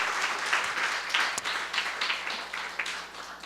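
A Korean church congregation gives a round of applause to God at the first worship service of 2018, a full, fluctuating burst of many hands clapping together for several seconds.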